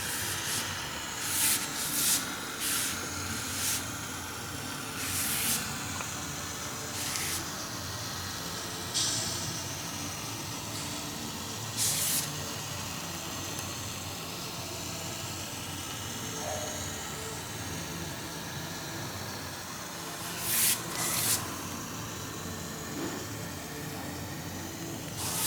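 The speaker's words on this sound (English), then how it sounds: "The train now climbs up through the second level of the loop." A Kalka Shimla Railway train climbing through a loop, heard as a steady rumbling, hissing drone with occasional sharp clanks and bursts of noise over a continuous mechanical background.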